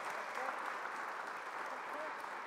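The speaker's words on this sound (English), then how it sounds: "Give Ivo a round of applause." Applause from a church congregation during a Sunday worship service with a baptism, a steady, dense clapping that fills the room and continues throughout without a break.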